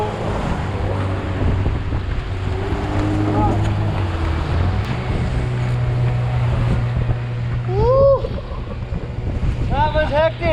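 Rough open water breaks around a fishing boat off Bali during a GT fishing trip: a steady wash and rumble of engine and sea with wind buffeting the microphone, and short squeaky cries rising over the noise.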